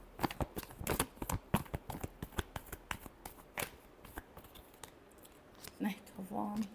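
Tarot cards riffled and shuffled by hand in a quick run of sharp, papery snaps up close, with a voice speaking briefly near the end.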